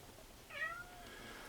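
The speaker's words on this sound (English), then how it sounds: "The cat calling me." A house cat gives one short meow, faint and at a distance, with a quiet background before and after.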